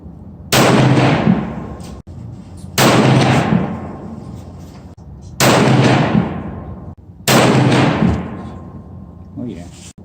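Four loud rifle shots from a Browning AB3 bolt-action in .243, fired at a 50-yard target, each a sharp crack with a long decaying echo, spaced roughly two seconds apart.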